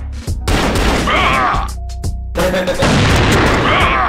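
Grenade blasts in an online shooter game: loud, booming explosions in two bursts with crackling debris between, close and heavy, with some game noise in the gaps.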